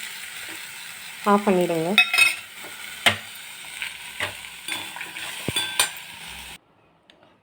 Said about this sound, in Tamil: சுருளை நல்லா வதக்குங்க.